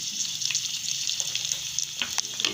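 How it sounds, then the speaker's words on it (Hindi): Whole dried chillies and cumin seeds fry in hot oil for a moong masoor dal tempering, a steady close crackling sizzle with scattered sharp pops and no talk. "साबुत मिर्चें फ्राई हो चुकी हैं, अब हम इसमें ज़ीरा डालेंगे।"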